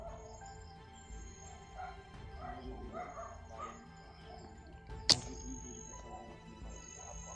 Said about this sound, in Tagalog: parang may aso dito sa amin